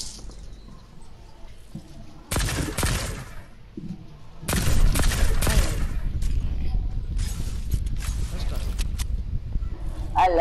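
Video game gunfire crackles in bursts of rapid shots, loud and close, with longer volleys after a short pause, while players talk excitedly over the shooting.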